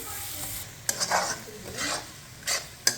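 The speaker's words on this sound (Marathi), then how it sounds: "गोल्डन ब्राऊन रंग होईपर्यंत हे परतून घ्यायचं आहे तेलामध्ये" Khandoli sautés in hot oil until golden brown, giving a soft background sizzle broken by several sharp spatula scrapes and clinks against the pan over a few seconds.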